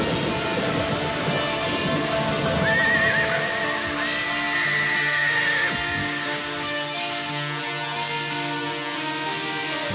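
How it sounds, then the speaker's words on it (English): Horses neighing with galloping hooves as foley in a song, a shrill whinny rising over rushing wind and a dense music bed, fairly loud and sustained. "Interesting foley immediately with the wind and the horses."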